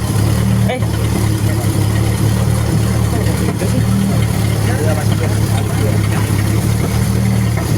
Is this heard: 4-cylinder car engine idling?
yes